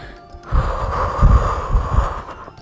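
Deep, slow breathing during a back-stretching exercise, with a few soft, airy exhalations and snorting breaths close by, steady and moderately loud, and no talking.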